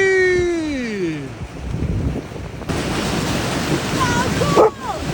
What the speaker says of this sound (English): A dolphin stampede this intense can only mean one thing.